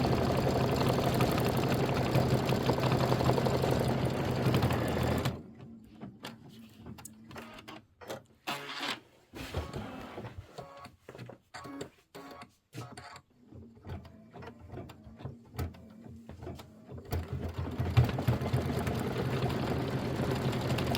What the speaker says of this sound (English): then we are going to stitch the acorn satin outline, and then the cap fill and leaf